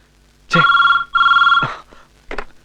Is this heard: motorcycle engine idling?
no